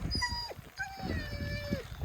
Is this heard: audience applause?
no